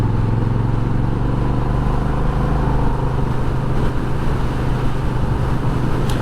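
A Honda Rebel 1100 motorcycle rides along a commuting road, its engine a loud, steady, close drone mixed with wind rush, without a break.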